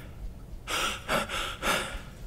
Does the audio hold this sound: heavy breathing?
yes